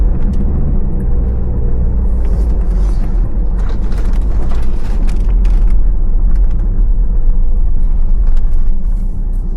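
A car drives through deep snow with a loud, steady engine rumble, plus creaks and crunching knocks from the body and tyres, continuous and close with no talk.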